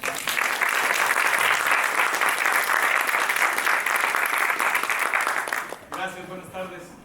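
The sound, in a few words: audience applause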